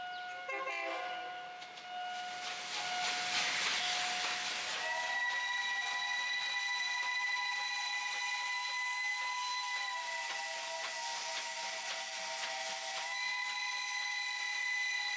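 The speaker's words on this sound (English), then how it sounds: "during the day, everything has to come to a standstill to let the trains pass." A train passing through a Bangkok district at a rail crossing, with a loud, sustained horn blaring over a steady rumble of cars rolling past close by, no talk.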